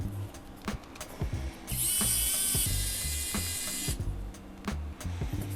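Screws come out of a cinewhoop drone's top plate, a compact 208 g 4K Cinerace20 V2 build, with a close string of sharp ratcheting clicks and a sustained higher whir from a small powered driver in the middle.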